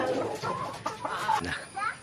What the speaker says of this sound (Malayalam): കോഴികള്, പടക്കോഴികളുണ്ട്